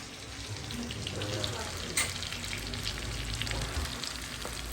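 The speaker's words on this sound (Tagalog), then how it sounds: "Ano bang niluluto mo? Buttered shrimp." Buttered shrimp with garlic sizzles and fries in a pan, a steady close crackle throughout with a brief utensil clank partway through.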